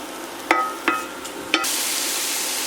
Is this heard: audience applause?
no